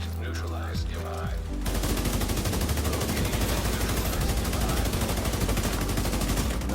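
Rapid automatic gunfire in The Division 2 PvP, starting after a brief stretch of low game sounds and then continuing as a dense, loud, steady rattle of shots hitting the player.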